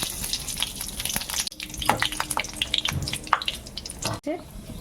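Nigella seeds and a dried red chilli hit hot oil in a kitchen pan, giving a busy close crackle and sizzle with small pops and a scrape of stirring.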